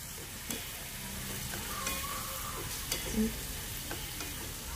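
Vegetarian pork belly stir-fried in a pan, a steady close sizzle and hiss with occasional soft scrapes of stirring, no talking.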